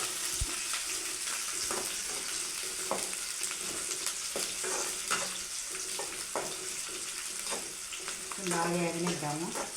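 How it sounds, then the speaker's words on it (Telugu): Onions frying in oil at home with curry leaves, a continuous soft hiss under repeated utensil scrapes and clinks, ending in a brief watery gurgle. "చూడండి, ఎర్రగడ్డలు వేస్తున్నాను"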